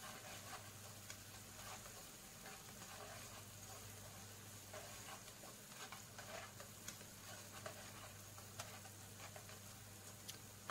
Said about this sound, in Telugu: బాగా ఫ్రై అయితే అయింది.